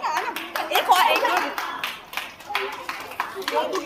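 Hands clapping at a birthday celebration for a morning Zumba fitness group, rhythmic and fairly close, mixed with lively voices throughout.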